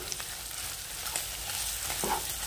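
Paneer being stirred in a pan with coriander powder and chilli, a steady low sizzle with faint scraping strokes of the spoon, close and continuous, no voices.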